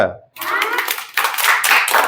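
Children clap their hands together in a village classroom during a fun maths lesson, a short burst of brisk, fairly close clapping after a brief pause, with a voice mixed in.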